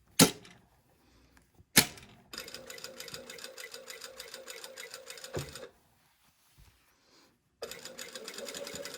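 A sewing machine stitches a garment's collar and facings in several bursts of steady, rapid whirring, with sharp clacks and short pauses between runs and the motor running close and loud.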